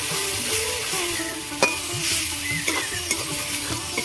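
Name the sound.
frying and stirring cumin and coriander masala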